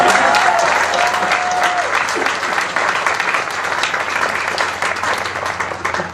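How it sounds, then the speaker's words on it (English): Sustained audience applause at the Endicott College Class of 2022 commencement ceremony, a dense, loud wash of clapping from a large crowd that carries on for about six seconds. "we owe another round of applause"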